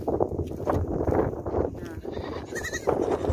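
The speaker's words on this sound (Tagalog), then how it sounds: "Ayan na yung mga kambing." Goats bleating on a small farm, several short cries coming near and loud over steady rustling and a voice talking in the background.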